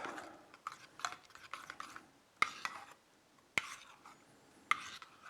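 A spoon mixes chives and trout roe into a beurre blanc, soft scraping strokes with a few sharp clinks against the pan, quiet and close.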